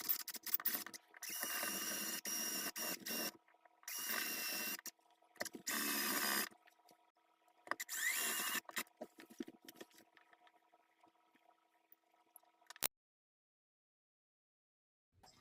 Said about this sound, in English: Now I'm going to drill into my 3 spots.